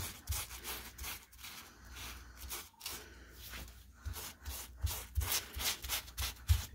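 Stain remover being rubbed into fabric by hand, giving repeated scrubbing and rubbing strokes close to the mic with an uneven, pulsing rhythm and no talk over it.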